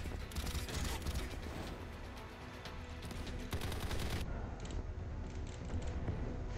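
Sniper rifle fire in a Call of Duty video game, loud sharp shots in quick bursts over busy game noise, cutting to a quieter tail after about four seconds.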